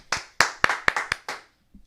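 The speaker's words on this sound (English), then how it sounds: "come on, let's clap" Six sharp, close hand claps land in a loose, uneven rhythm on a morning show, crisp and separate, then they stop with a brief quiet murmur at the end.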